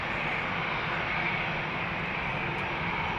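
An airBaltic airliner departing Amsterdam Schiphol Airport, its engines a loud, steady broadband roar that holds evenly throughout with no voices over it.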